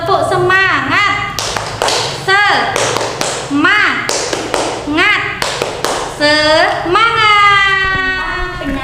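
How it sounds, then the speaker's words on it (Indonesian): A group of women claps a rhythmic 'tepuk semangat' pattern in short bursts, sharp claps alternating with loud chanted voices in a lively call-and-response beat. "Mari kita melakukan tepuk semangat, Ibu."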